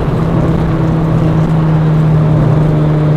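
A Suzuki Swift Sport engine drones steadily from inside the cabin while driving, a loud continuous hum with low road rumble and no break in the sound.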